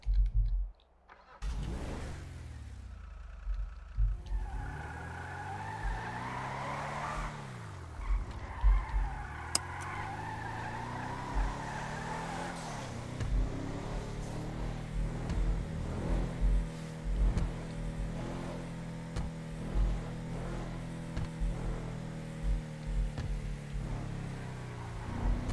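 A large truck drives in the RedlineRP video game, with an engine that rises and falls through gear changes, some skidding and clicking, and a steady rumble throughout.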